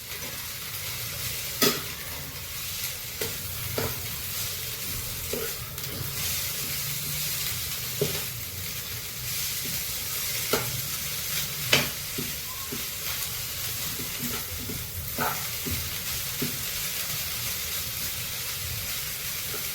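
Mutton sizzling and frying in a pan with mint and coriander, a steady hiss broken by scattered stirring scrapes and clicks, close and fairly quiet, with no voices.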